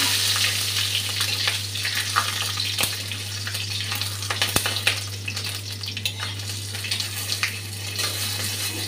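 Bay leaf, panch phoron and green chilli sizzle in hot oil beside fried dry red chilli, a steady close hiss and crackle with a couple of sharp clicks and no talking.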